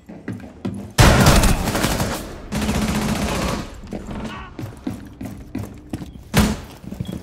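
Gunfire in the Rainbow Six Siege video game, with loud, close blasts followed by a sustained burst of heavy shooting, then scattered smaller impacts and mechanical clicks, and one more sharp shot near the end.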